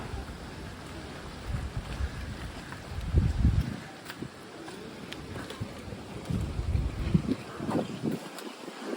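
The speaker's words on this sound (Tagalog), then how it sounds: "May bagyo." Gusty typhoon wind in Bacolod, Philippines roars and buffets the microphone, with rumbling surges rising and falling and faint water or boat noise underneath.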